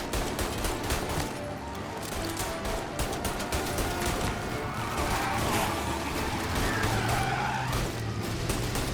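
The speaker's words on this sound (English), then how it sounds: "Another motor coming after the booze truck." A car chasing a booze truck in Mafia: Definitive Edition roars continuously with tyre squeal and bursts of gunfire, loud and dense throughout with no talking.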